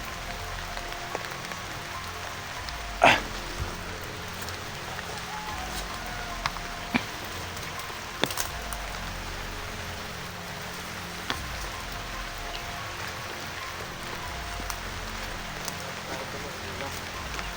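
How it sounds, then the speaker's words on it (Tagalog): Rain patters steadily on a surface throughout, with scattered louder drops and knocks, and voices talking now and then over it. "Malakas pa yung ulan"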